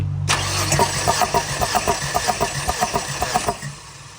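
A Tata CNG car engine cranks over during a cylinder compression test, giving a steady rhythmic chugging of about fifteen even pulses that cuts off abruptly, loud and close, with no talking.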